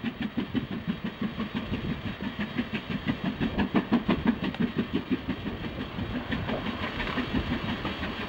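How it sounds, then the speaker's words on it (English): The Duchess steam locomotive hauling the Royal Train at Ribblehead Viaduct on the Settle–Carlisle line, with a diesel at the rear: loud, rapid rhythmic exhaust beats pounding steadily throughout, close and strong. "But it's the Royal Train, the Duchess on the front,"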